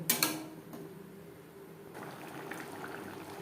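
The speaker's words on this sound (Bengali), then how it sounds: "মশলার সাথে তিন চার মিনিট গ্রেভি বেশ ভালো করে ফুটিয়ে নেব" Cauliflower gravy bubbling in a pot, a low continuous simmer with a few clinks and knocks at the start, close and fairly quiet, no talking.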